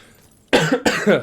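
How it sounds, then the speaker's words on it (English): Two harsh, close coughs in quick succession, loud and raspy, following a moment of near silence. "The cough's been gone for a good period of time, but it's come back"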